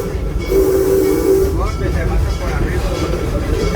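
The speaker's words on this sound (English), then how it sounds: "the train is a 3/4 replica of the steam engine train they used in the late 1800s, early 1900s in Africa." The Serengeti Express, a three-quarter-scale replica of an African steam train from the late 1800s, rumbles along at Busch Gardens Florida with a hiss and a short steady whistle, rolling noise continuing underneath a voice.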